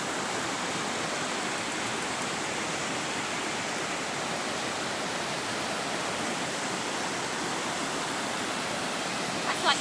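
The Walla Walla River flows near the Blue Mountain Range, a steady, dense broadband rush of moving water that holds constant throughout with no pauses or voices.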